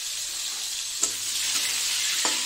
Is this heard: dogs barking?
no